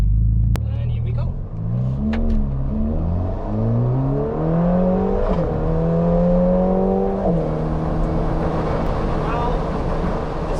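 A twin-turbocharged 3.9-litre Ferrari V8 accelerating hard in sport mode, heard from inside the cabin as a loud, rising engine note that climbs through several gears with brief dips at each shift, with wind buffeting in the background.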